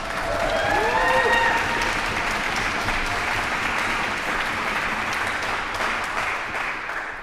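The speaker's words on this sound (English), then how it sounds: "Manaswi deserves a big round of applause." Audience applause at the world premiere of Tod Machover's FLOW Symphony, greeting musician Manaswi Mishra: a steady, full wash of clapping that swells early and holds, with a few cheers and whistles near the start.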